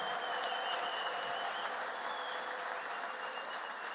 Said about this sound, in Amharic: እግዚአብሔርን እስኪ ከፍ ያለ ጭብጨባ